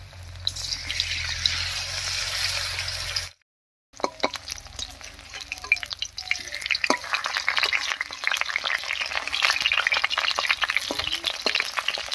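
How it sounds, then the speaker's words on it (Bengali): Banana flower fritters (bora) frying in hot oil for a Bengali mocha dish: a steady, close sizzle with crackles and pops that starts after a brief silence and carries on, joined by occasional light clinks. "এবারে ঝটপট করে ভেজে নেব বড়াগুলো।"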